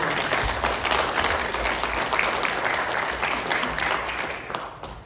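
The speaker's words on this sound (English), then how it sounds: "Let's give everyone a round of applause." Steady applause from a church congregation fills the sanctuary, dense and even for about five seconds before it thins and fades at the end.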